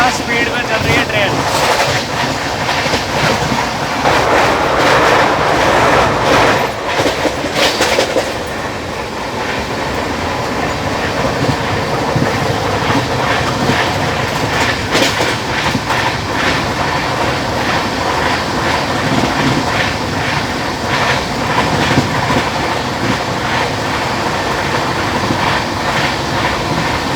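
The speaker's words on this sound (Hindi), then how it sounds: "क्या बात है, क्या स्पीड में चल रही है ट्रेन।" The Okha Nathdwara Express 19575 runs at speed, its wheels clattering in a rhythmic clickety-clack over loud continuous rumble and rushing air, heard from aboard with a voice speaking over it.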